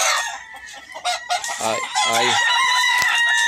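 Rooster crowing and hens clucking among chickens at a cockfighting ring, with loud repeated crows close by and a brief word spoken over the birds.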